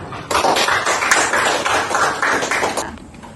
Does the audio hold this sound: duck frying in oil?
no